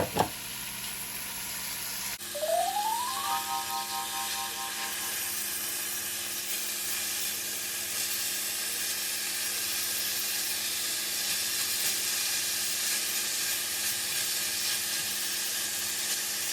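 Ground beef frying in a pan, heard as a steady, fairly loud sizzle and hiss that holds evenly after a brief clatter at the start, with a faint rising tone early on and no voices.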